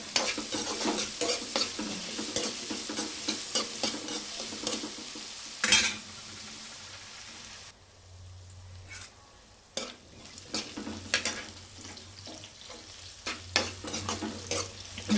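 Onions fry in a pan with a steady broadband sizzle and frequent stirring scrapes and clinks of a utensil, loud and close, with a brief quieter stretch partway through; no one speaks.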